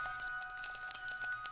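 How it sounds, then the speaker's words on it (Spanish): Bright jingling bells ring continuously and loudly, a shimmering sustained peal with rhythmic shaking pulses, used as a sound effect in a Christmas story. "se oyeron ruidos fuertes y campanas en su casa."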